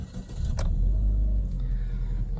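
A car with an Ecotec engine idling just after the key is turned, a steady low rumble close by with faint clicks and a light jingle of keys over it.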